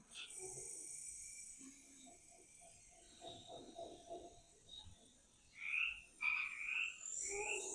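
Frog croaks from an educational food chain animation ring out in a series of rhythmic, moderately close calls, with some higher chirping toward the end.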